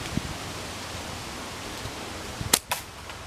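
A slingshot fires a shot at a target 10 meters away outdoors. A soft snap is followed by a sharp impact crack and a second quick hit, all over steady background hiss.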